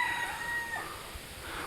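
A village rooster crows in one drawn-out call, with hens clucking around it. The sound carries a little distance and is fairly faint, heard in damp, misty countryside.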